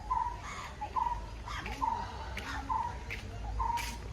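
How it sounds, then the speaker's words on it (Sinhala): At Dehiwala zoo, a crested hawk-eagle and a brahminy kite give repeated thin calls roughly every second, faint and distant over a low rumbling background. "කඳුකර කොණ්ඩ උකුස්සා සහ බ්‍රාහ්මිනී උකුස්සා"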